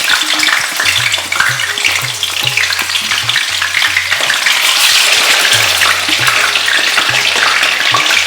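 Loud, constant sizzling and spitting of lamb shanks frying in hot oil in a pan, close up, with a low rhythmic hum beneath it.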